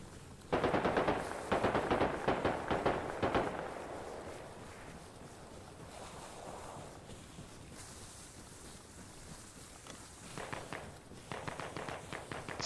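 Machine gun fire in ARMA Reforger, several loud close bursts of rapid shots early on, then quieter distant firing and rattles, with more short bursts near the end.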